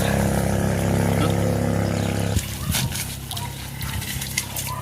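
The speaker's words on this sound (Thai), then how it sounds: "เสียงเรือ" A boat engine drones steadily and loudly, then cuts off abruptly partway through, leaving splashing water and scattered clatter.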